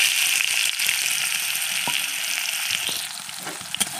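Chopped onions fry in hot oil with bay leaf, cardamom, dried chilli and cumin, a steady close sizzling hiss with small crackles and occasional stirring clinks, no talking.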